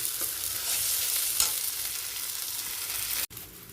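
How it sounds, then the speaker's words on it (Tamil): Green tamarind puliyodharai sauce bubbles and sizzles steadily in a pan, close up, with a soft stir partway through before the sound cuts out. "இப்போ நல்லா கொதிச்சாச்சு கொதிக்கிறது"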